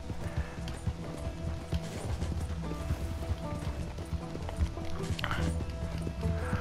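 Horse hooves in the video game Red Dead Redemption 2, a steady clip-clop of a running horse with faint mechanical clicks and game sounds in the background.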